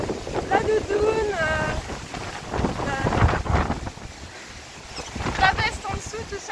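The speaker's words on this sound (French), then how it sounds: "Mais il y a un vent." Strong wind buffets the microphone in a steady roar, with a voice speaking over the gusts at the start of a 22 km outdoor hike.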